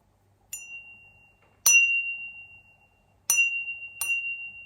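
A crystal glass from a French brocante is flicked by a finger four times, each strike producing a clear high ping that rings on with a long, shimmering sustain in a quiet room.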